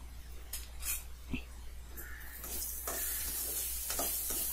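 Ivy gourd sautéing in a pan after turmeric powder is added, a soft steady sizzle and hiss that swells toward the end, with occasional stirring clinks.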